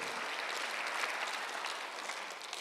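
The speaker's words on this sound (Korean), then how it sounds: "박수 하나 드세요." A church congregation claps during a Sunday worship sermon, producing a soft, even patter of many hands that continues throughout and tapers slightly at the close.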